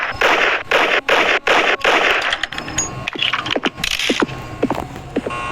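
Gunfire in a Roblox horror game: rapid bursts crackle in a dense stream, then break into scattered sharp shots and clicks, loud and close.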